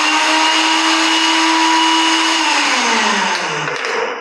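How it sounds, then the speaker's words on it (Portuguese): A kitchen blender whirring loudly as it mixes food, a steady high motor drone that holds for several seconds and then slightly drops in pitch as the load changes near the end. "depende da potência do liquidificador"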